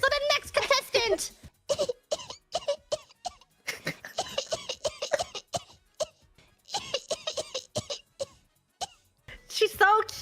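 A contestant in a coughing-baby contest mimics a baby's coughs with her voice: rapid, close, choppy bursts of little coughs and squeaky vocal sounds, repeated in clusters with short pauses.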